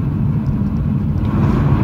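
Steady, loud low rumble of a car cruising along a motorway toward the M62, with road and engine noise droning evenly throughout and no talk.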